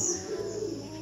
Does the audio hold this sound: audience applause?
no